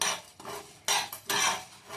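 Whole cumin, coriander seeds and a few peppercorns are dry-roasted in a pan, heard as several short bursts of scraping and rattling as the spices are stirred.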